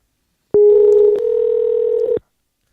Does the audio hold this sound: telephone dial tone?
yes